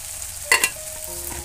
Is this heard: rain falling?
no